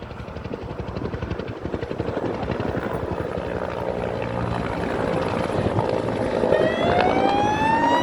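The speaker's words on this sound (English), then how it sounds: "this other chopper should be coming up over here now." Firefighting helicopters circle low over houses during a wildfire in Portugal, a loud continuous rotor thump and engine whine that swells near, with a rising turbine tone as one climbs away.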